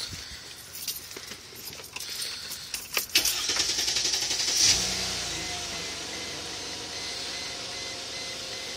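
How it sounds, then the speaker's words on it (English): Keys jangle before a Mercedes-Benz ML320 cranks with whirring starter bursts and then catches, settling into a steady close idle after a fuel pump replacement. "Go to start the car. It shouldn't start initially."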